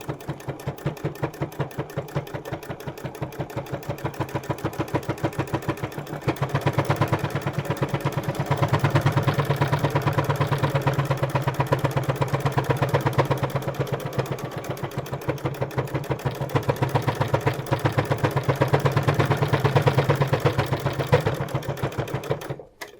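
Sewing machine stitching a patchwork fabric wallet, a steady rapid mechanical chatter that runs continuously at close range, speeding up slightly in places before stopping at the end, with no voice.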